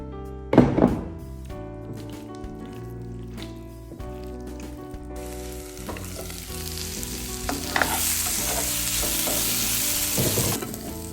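Bitter gourd frying in hot oil as tempura-style batter fritters, a steady sizzle that swells louder toward the end, with occasional clunks and stirring noises from the pan.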